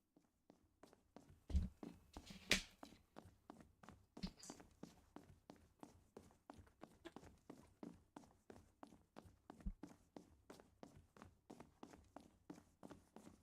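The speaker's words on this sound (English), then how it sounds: "The sound of hurried footsteps comes from the other side of the doors." Hurried footsteps from a Tsukihime visual novel scene rattle behind closed doors as a rapid, steady run of close, even steps with no talking, with a couple of heavier thumps near the start.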